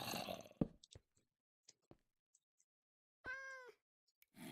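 A cat meows once in the Minecraft video game, a clear, drawn-out call after a stretch of scattered soft clicks and taps, with a brief burst of game noise at the start and end.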